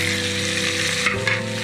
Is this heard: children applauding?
no